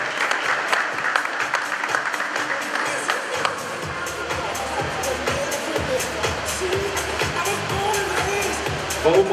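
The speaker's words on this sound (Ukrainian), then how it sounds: "Оплески приведемо." Crowd applause at a boxing weigh-in, dense clapping from an audience that continues for about nine seconds, with a public-address voice speaking over it.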